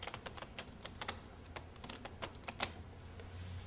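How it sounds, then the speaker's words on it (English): A deck of playing cards is shuffled, giving a quick, irregular run of sharp riffling clicks and snaps, faint and close, with no talking. "I'm going to shuffle the cards like this."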